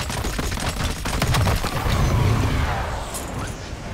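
Gunfire in the video game MW3 Zombies, a dense, loud volley of rapid shots and crashing impacts that tails off into a noisy rumble.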